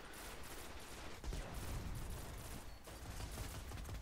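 Auto rifle gunfire in Destiny, a rapid continuous rattle of shots during a Crucible match, faint and steady throughout with no talking.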